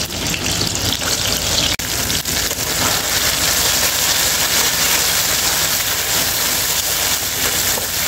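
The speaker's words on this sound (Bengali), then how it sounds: "তেল গরম হয়ে গেছে, এখন খোসা বাটাগুলো দিয়ে দিব।" Pointed gourd peel paste hits hot white oil with black cumin seeds in a wok and sizzles loudly and steadily up close, a continuous bright frying hiss with a few small clicks.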